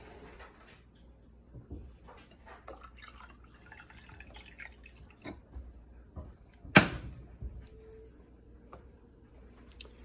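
Warm bourbon cider is poured into a glass, giving a soft trickle with a sharp clink partway through, then a faint rising tone as the glass fills in a quiet room.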